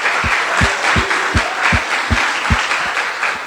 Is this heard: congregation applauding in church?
yes